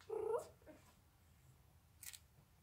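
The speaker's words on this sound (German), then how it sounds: "Und meine Katze will mit." A cat gives one short, close meow, followed by faint rustling and a soft scrape in a quiet outdoor setting near a horse being saddled.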